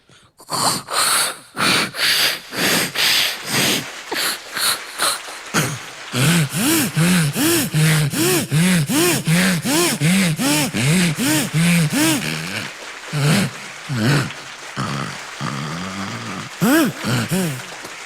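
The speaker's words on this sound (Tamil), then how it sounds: "இந்த கட்டை இருக்குல்ல சார், இதை அறுக்கும் போது வந்த சத்தம்" A saw rasps through a wooden log in rapid rhythmic strokes, loud and close, with short pauses and a few breaths between bursts.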